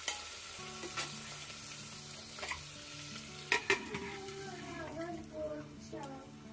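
Vegetables frying in a pressure cooker with a soft, steady sizzle, broken by scattered clinks and scraping stirs, with quiet background sounds and some faint talk.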